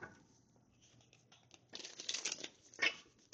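Soft papery riffling and flicking of cards being shuffled, quiet at first, then a couple of louder crisp bursts close by.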